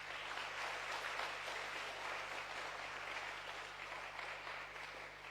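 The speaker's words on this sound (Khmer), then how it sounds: "ខ្ញុំបាទសូមសម្លេងទះដៃដើម្បីថ្លែងអំណរគុណទៅដល់ពួកគាត់ផងដែរ" Sustained audience applause at a live small-business accelerator showcase event, dense steady clapping filling the room for several seconds with no talk over it.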